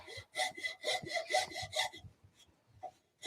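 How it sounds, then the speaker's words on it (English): Fine file rasping across wood during woodturning, a steady run of repeated strokes that stops, then one last stroke after a short pause. "that's a finer file than we were using this morning"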